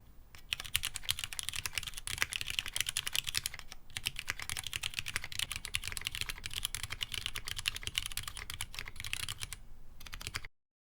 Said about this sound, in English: Now here's a quick typing test showing that.